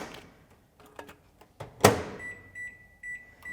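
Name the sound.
microwave oven heating rice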